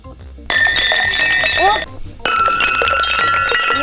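Drinking glasses knocked over and breaking, heard as two loud bursts of bright, ringing clinks and shattering glass separated by a short pause, with people present nearby.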